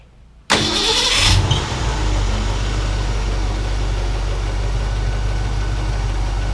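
A 1965 Ford Mustang engine cranks briefly and catches, then settles into a loud, steady, rumbling idle close by, with a slightly uneven lifter tick under the low drone.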